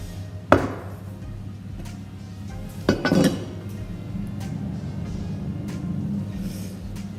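A knife cuts a sheet of puff pastry dough in half while making a galette des rois, giving two sharp knocks of the blade against the board a few seconds apart, close and clear with no talking.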